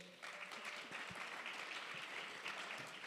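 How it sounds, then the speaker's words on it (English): Steady applause from an audience at the 2023 Black Professionals Summit, a broad dense clapping wash that starts abruptly and holds at even loudness for about three seconds. "Let's give her a round of applause."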